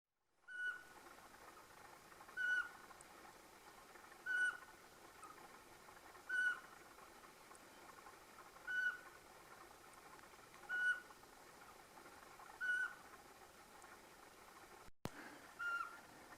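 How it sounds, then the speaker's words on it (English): Eurasian pygmy owl (Glaucidium passerinum) in a spruce forest in Pirin National Park, Bulgaria, giving a series of seven evenly spaced single piping whistles about two seconds apart, moderately distant over a steady quiet forest background. "the first records of pygmy owl,"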